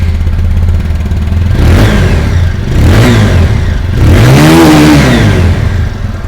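TVS Apache RTR 160 2V motorcycle exhaust revving up close and loud, a low idle burble rising into three distinct throttle blips, the last one longest and highest, each falling back to idle.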